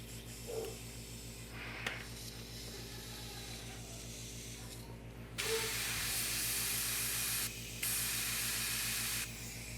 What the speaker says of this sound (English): got my airbrush cranked down, so only a little bit of paint comes out